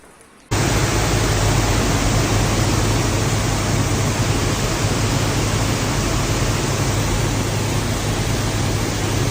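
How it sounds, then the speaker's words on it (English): Floodwaters rush over Route 9 in Fishkill, New York, after heavy rain. The roar is loud and constant, with broadband rushing noise that starts abruptly after a short quiet moment and holds steady without a break. "It's Route 9 in Fishkill, New York, submerged by floodwaters after heavy rain on July 29th."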